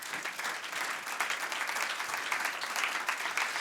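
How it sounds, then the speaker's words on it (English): Dense, steady applause from a large audience for the evening's performers, a continuous wash of many hands clapping at full volume with no talk. "I think we need to give all of those performers a massive round of applause."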